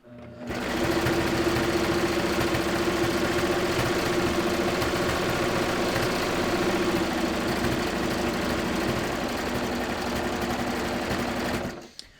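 A serger sewing machine runs steadily for about eleven seconds, stitching around a circular piece of fabric. The motor hum and rapid needle chatter stay close and loud with no pauses, then stop abruptly at the end.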